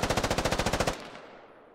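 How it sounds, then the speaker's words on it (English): Rapid automatic machine gun fire from a video game squad shooter, a steady burst of about a dozen sharp rounds for under a second, then a fading echoing tail; loud and close, no talk. "Yeah, he's going to send some rounds over."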